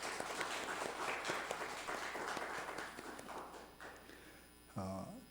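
A church congregation claps during a Sunday worship service, a scattered patter of applause that rises and then thins out, with a few voices underneath.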